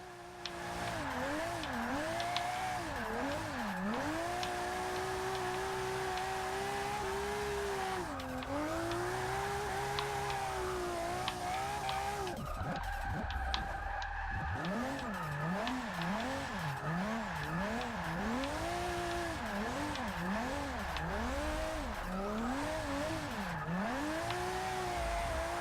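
A drift car in Forza 6 revs hard, its engine note swooping up and down with gear changes over a long, sustained tire squeal through slides. The sound is loud and steady and briefly drops near the middle.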